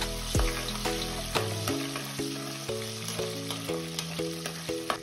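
Onion and shallots fry with salt, fenugreek and curry leaves in a pan, giving a loud continuous sizzle with small stirring clicks, while stepped tonal music plays underneath.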